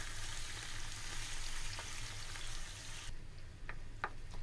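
Onions and garlic sauté in oil in a pan with a loud, even sizzle that suddenly drops to a quieter crackle, followed by a few spoon clicks against the pan; no talking.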